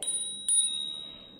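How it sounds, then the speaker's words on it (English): A small bell mounted on a RadWagon 4 cargo e-bike rings twice, two bright metallic dings about half a second apart with a lingering ring, close and with no voices. "I got a little bell"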